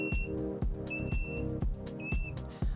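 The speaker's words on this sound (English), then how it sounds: "it will start beeping and emitting light signal." Short high-pitched electronic beeps repeat in bursts over a busy musical background, each tone steady and piercing, recurring roughly every second.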